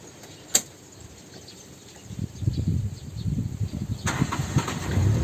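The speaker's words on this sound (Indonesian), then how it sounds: "maka kita lakukan menghidupkan mobil terlebih dahulu" A car engine starts up after a quiet pause with a brief click, then turns over into a low, rumbling idle that grows louder and holds steady nearby.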